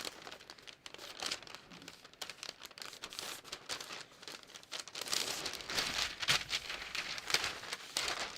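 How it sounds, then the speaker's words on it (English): A paper sewing pattern piece for a bathrobe is folded along a line, producing soft, close crinkling and rustling that grows busier and louder toward the end. "I'm going to fold the front down on the line."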